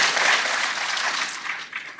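An audience applauds at a gold investment conference, a brief dense burst of clapping that is fairly loud and steady, fading slightly toward the end.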